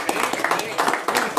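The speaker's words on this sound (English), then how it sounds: "I'm glad I got the applause beforehand" An audience at a division meeting claps for a presenter with brisk, dense applause that keeps on across the whole short stretch.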